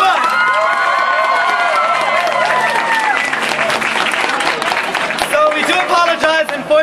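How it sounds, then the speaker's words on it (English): Crowd at an anime convention cosplay contest applauding and cheering for the winners, loud sustained clapping with whoops and excited shouts, and voices rising near the end. "Give them a round of applause."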